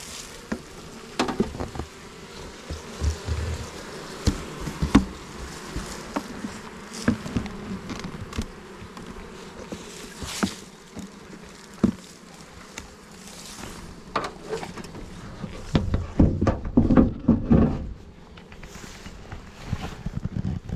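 Bees buzzing continuously around a single spring beehive in the Bois de la Tour de Pirlonge during honey harvest, a steady close hum with scattered louder passes near the microphone and some wind noise.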